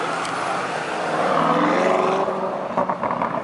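A BMW F30 passing at a car show during Monterey Car Week, its engine rising into a smooth tonal drone that fades as it moves off, loud and close, no talk.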